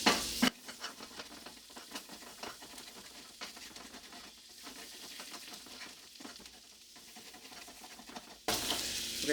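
About two tablespoons of butter sizzle and crackle in a pan for a crock pot gravy sauce, a continuous hiss with stirring scrapes, beginning and ending in sudden louder bursts.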